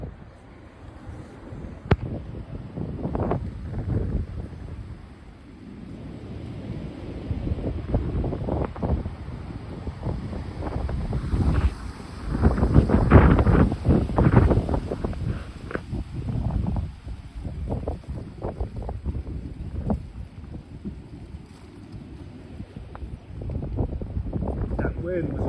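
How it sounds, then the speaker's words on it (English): Strong wind blows outdoors, a loud rushing and buffeting roar against the microphone that swells and dips over the whole stretch, with a voice talking underneath. "Just a lot of wind."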